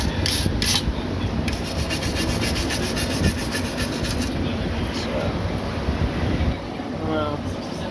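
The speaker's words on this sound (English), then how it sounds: "Then I'll go to brush 3, and that's my final brush for cleanup." A hand brush scrubs a Camaro radiator part clean, giving rapid repeated rasping strokes close by, fairly loud and continuous, with a brief pause near the end.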